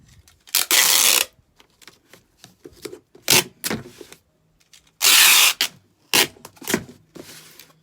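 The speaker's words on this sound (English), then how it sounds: "I'm going to tape my label" Packing tape rips off the roll in two loud, scratchy pulls, with lighter crinkles and taps between them as a shipping label is taped onto a package.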